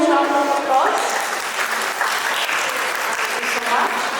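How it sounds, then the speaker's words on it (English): An audience at a school orientation program welcomes a speaker with sustained, fairly loud applause; a voice is heard speaking at the very start before the clapping swells and carries on evenly. "Let's give her a huge round of applause."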